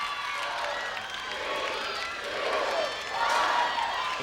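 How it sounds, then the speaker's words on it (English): A crowd at an American Gladiators Assault event, steady loud massed voices swelling near the end as they chant down the final seconds. "The crowd counts it down"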